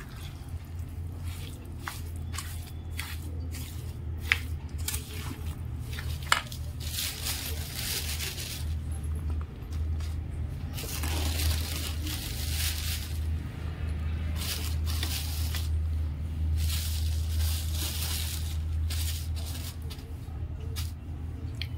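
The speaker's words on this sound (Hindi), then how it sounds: "लोणच्याचा मसालाही गार झालाय आणि आवळेही वाळले आहेत. आता ते टाकून सर्व मिक्स करून घेते." Spice masala is stirred into dried amla (Indian gooseberry) pickle in a bowl, making soft, wet squishing and scraping sounds in irregular bursts, close and fairly quiet over a low background hum.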